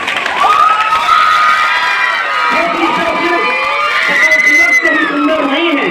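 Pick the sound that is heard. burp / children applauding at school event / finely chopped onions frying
children applauding at school event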